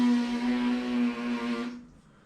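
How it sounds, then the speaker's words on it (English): A trumpet player's lips, pursed hard with air forced through the center, produce a steady buzzing tone for nearly two seconds before it stops abruptly. "you're going to purse your lips together real hard like you just ate something sour"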